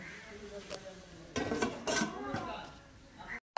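A metal lid goes onto a cooking pot of pea-leaf greens with a snakehead fish head, giving a few light clanks and clinks close by over faint kitchen background noise.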